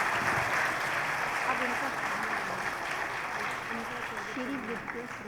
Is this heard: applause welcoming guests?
yes